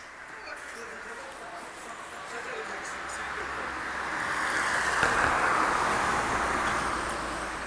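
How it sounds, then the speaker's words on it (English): Cars roll down a street as people head to prayer during Ramadan, a steady traffic wash that swells as a vehicle passes near the middle and then eases off, with a faint murmur of voices in the background. "There are cars coming down the street as people make their way to prayer."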